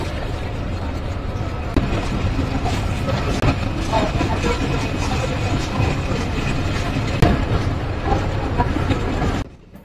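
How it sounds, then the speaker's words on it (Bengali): The Mongla commuter train leaves Singia railway station in Jessore, a loud, steady rumble of wheels and carriages with rhythmic clatter heard from on board before it cuts off abruptly. "সিঙ্গিয়া রেলওয়ে স্টেশন থেকে মংলা কমিউটার ট্রেনটি তার গন্তব্য মংলার উদ্দেশ্যে ছেড়ে যাচ্ছে"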